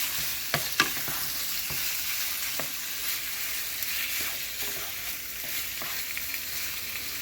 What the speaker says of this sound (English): I'm stirring right now so it can like mix with the oil so don't get stuck.